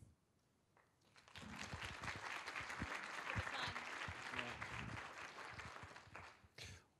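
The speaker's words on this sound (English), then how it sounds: "I was going to ask them to give you a round of applause, but they did it spontaneously" Spontaneous audience applause for panel members at a university engagement-day panel discussion, swelling from quiet into sustained clapping across the room for several seconds, then fading out.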